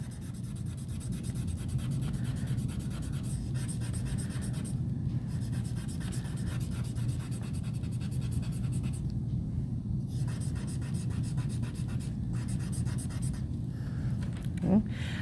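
Pencil graphite rubbed and blended across paper while shading an eye drawing, a steady soft scratchy rubbing that continues throughout, with a louder stroke near the end.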